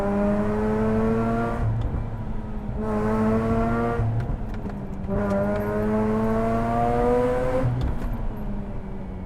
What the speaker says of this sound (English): Maybe they're into cars and they're gonna enjoy the exhaust note.